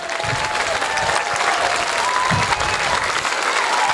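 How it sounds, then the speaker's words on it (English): A school audience gives a steady round of applause at an elementary school Memorial Day ceremony, dense clapping holding evenly throughout with no voices standing out. "if we can just have one round of applause"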